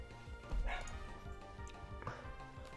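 Indoor dogs let out a couple of sharp barks and yips behind loud, repetitive Pokémon game music, each burst brief and somewhat distant.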